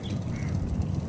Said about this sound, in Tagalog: May maingay na ibon eh.